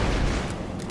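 Heavy gunfire and booming impacts from a Halo: Reach firefight on Xbox 360, a dense continuous roar of shots and blasts filling the whole second, loud and close with no talk.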